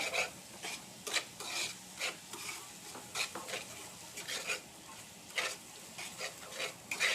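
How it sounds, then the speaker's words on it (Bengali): Spice paste for a prawn malai curry being stir-fried in a pan, with a steady soft sizzle broken by repeated scraping strokes of a spoon at an uneven rhythm, close and moderately quiet. "মশলাটাকে খুব সুন্দর করে কষিয়ে নিতে হবে"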